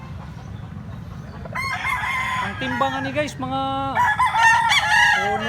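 A young rooster, about eleven months old, crows repeatedly up close in a loud, stretched, wavering call, with clucking and someone talking underneath.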